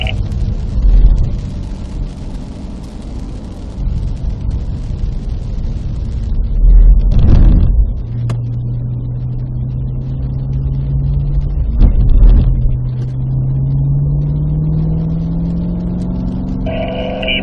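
A Cadillac CT5-V Blackwing with a six-speed manual is driven on a wet track at Spring Mountain, Pahrump. Its engine drones loud and close with a rising pitch as the throttle builds, and sharp bursts punctuate the steady roar.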